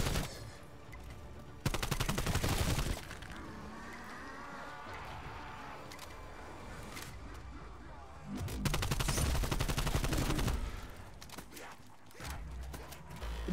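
SMG fire in Call of Duty Cold War Zombies comes in two loud, sustained automatic bursts of about a second and two seconds each, separated by quieter stretches with scattered single shots and faint background game sounds.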